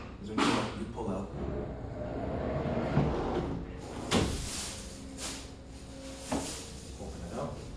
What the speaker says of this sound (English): There's a door you pull out.